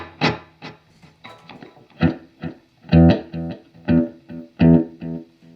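Distorted electric guitar through a Keeley DDR drive, delay and reverb pedal, playing choppy, rhythmic chords with an echoing delay tail, fairly loud and alone.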